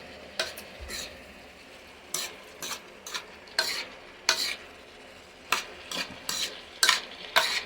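Sliced bitter gourd, ampalaya, is sautéed in a pan: a soft steady sizzle under repeated scraping utensil stirs that come in irregular bursts, close and fairly quiet.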